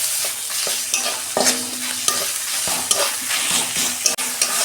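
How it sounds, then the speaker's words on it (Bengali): Ginger garlic paste and onions fry in a pan, with a steady loud sizzle and repeated scraping stir strokes of a spoon at a quick, uneven rhythm. "এই আদা রসুনটা আমি কষতে নিয়েছি।"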